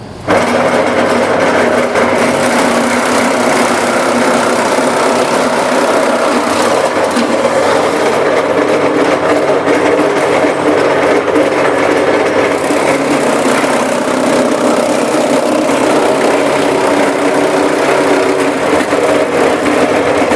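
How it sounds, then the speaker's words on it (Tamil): A mini horizontal chaff cutter runs continuously at close range in a live demonstration, giving a loud, steady mechanical whir and drone throughout with no talking over it. "இப்போ அடுத்து வந்து மினி சாப் சாப்டர் எப்படி ஆப்ரேட் ஆகுதுங்கிறது லைவாக நம்ம பார்த்தரலாம்"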